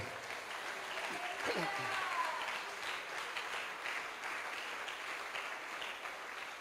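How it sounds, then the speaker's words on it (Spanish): A church congregation at a Pentecostal service claps in sustained applause, moderately loud and fairly even, with some voices rising over the clapping. "Un aplauso para Él."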